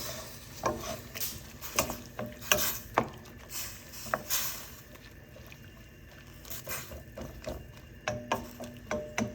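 Onions, mushrooms and squash being stirred in a pot for Korean soft tofu stew, with repeated scraping clatters and knocks of a utensil against the pot in irregular bursts, fairly close.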